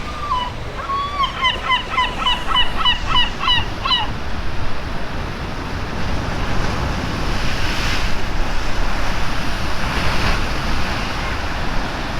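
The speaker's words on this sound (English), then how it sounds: "every time I hear the sound of the ocean and the waves, I get so calm" Ocean waves breaking on a rocky Portuguese shore, a steady surging roar with periodic swells, mixed with wind noise on the microphone; a few brief honking calls sound early on.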